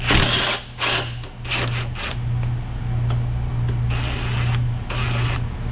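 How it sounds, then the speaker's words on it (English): A ratcheting wrench works a nut on a 2016 Ford Focus 2.0, sending out quick bursts of close metallic clicking over a steady low mechanical hum. "My ratcheting wrench is going the wrong way."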